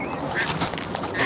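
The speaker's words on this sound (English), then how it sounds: "Come on, you cheeky catbird." Brief harsh, nasal calls from an Australian catbird among a wild mob of birds, loud and close for just over a second, with a person talking at the same time.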